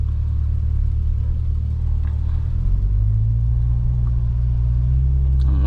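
Chevrolet C8 Corvette in Sport+ mode with manual shifting, heard from inside the cabin on a Florida road: a steady, loud low engine rumble whose pitch steps up partway through as the car shifts and pulls.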